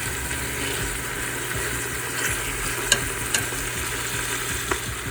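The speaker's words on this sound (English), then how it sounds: "I have about 3/4 cup of oil, olive oil in here. And that's what I'm going to saute it in." Collard greens sauteing in about three-quarters of a cup of olive oil, a steady broadband sizzle with a few light clicks of a utensil, alone and fairly close.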